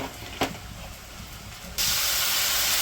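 Ground chilli and turmeric powder sizzling in hot oil in a wok, village-style cooking: a steady hiss with one sharp knock early on, then a sudden, much louder rush of sizzling that continues to the end.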